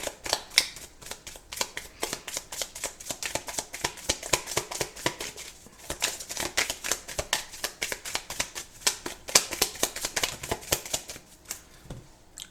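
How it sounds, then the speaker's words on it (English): Tarot cards are shuffled by hand in quick, crisp riffling bursts that repeat steadily and close by, with no talk over them. "Let's pull some other cards."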